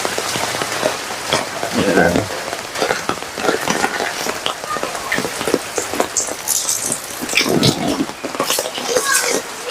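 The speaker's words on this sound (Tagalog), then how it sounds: "Umuulan." Steady rain falling on surfaces during a walk to a small neighbourhood market, a dense pattering hiss under brief talking voices.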